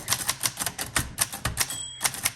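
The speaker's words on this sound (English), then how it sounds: "let's start typing 1948. Underwood" Typing on a 1948 Underwood Champion portable typewriter: a steady run of crisp, close key strikes at a quick, fairly even pace, with a brief bell-like ring near the end.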